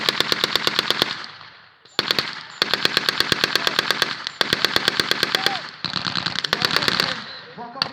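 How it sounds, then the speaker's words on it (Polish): A machine gun fires long rapid bursts at a 2018 battle reenactment in Wąchock, loud and close, with brief pauses between volleys and faint background noise. "Bizancka broń maszynowa zaczęła bez przerwy bić w otwory strzelnicze."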